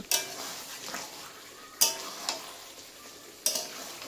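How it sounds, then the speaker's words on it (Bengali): Desi chicken curry meat being stirred in a pan, soft scraping and gentle sizzling with three sharp utensil clinks against the pan spaced out over a few seconds. "তাই মাংসটা প্রায় আমার কষেই গেছে, আমি ভালো করে একটু নেড়ে নিচ্ছি।"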